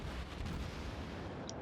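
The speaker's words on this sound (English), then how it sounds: "they're gonna exchange some gunfire" Cruisers trade naval gunfire in World of Warships, a dense, continuous low rumble of cannon blasts and booms at moderate level, with no talking.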